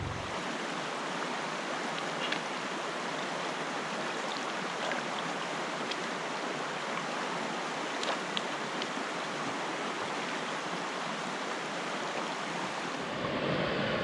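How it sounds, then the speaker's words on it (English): Water swishing and washing steadily in a gold pan as miner's moss matting is rinsed out at a placer gold digging spot in the Sierra Nevada mountains, a continuous close rushing wash with faint splashes, no talking. "So I'm gonna wash it out in this pan now"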